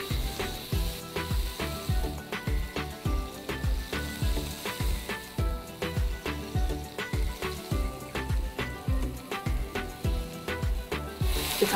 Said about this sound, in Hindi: अब इसके अंदर हम ये मैरिनेट की हुई चाप डाल देंगे।